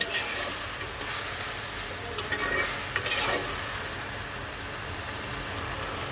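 Spices are stirred into a sizzling hilsa fish head and ridge gourd curry in a pan, giving a steady frying hiss with scraping stirs and a few sharper clicks, close and continuous.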